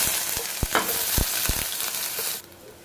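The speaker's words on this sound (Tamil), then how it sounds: "சோம்பு போட்டுக்கலாம் ரெண்டு கொத்து கருவேப்பிலை உருகி போட்டுக்கலாம் வெங்காயம் போட்டுக்கலாம்" Onions hit hot oil with fennel seeds and curry leaves for a Chettinad mushroom curry, giving a loud, steady sizzle broken by a few sharp spits and pops before it drops off abruptly near the end.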